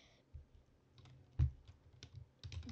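Quiet, uneven keystrokes on a computer keyboard while typing into Notepad, a few soft clicks with one sharper tap, close by and with no talking.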